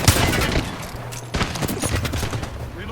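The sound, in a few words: gunshots in Apex Legends video game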